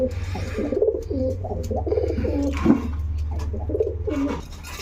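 Danish pigeons coo repeatedly in soft, rolling phrases close by, with a steady low hum running underneath and no talking.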